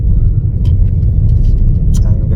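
A car gently accelerates on a driving test route in Featherstone, with a loud, steady low engine and road rumble from inside the cabin and a few faint rattles on top.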